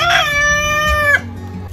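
A turkey on a Central Florida farm gives a loud, harmonic call lasting just over a second, with steady rising tones that cut off abruptly, followed by quieter low rumbling.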